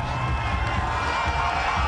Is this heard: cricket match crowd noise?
yes